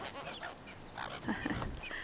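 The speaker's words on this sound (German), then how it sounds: "Und die Möwen gehen hier ab." Seagulls calling at a beach in Western Australia, a cluster of faint squawking and honking cries over a soft background wash.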